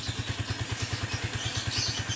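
Motorcycle engine running steadily just after being started, a rapid even putter of firing pulses close by, with some mechanical clatter and no talk over it.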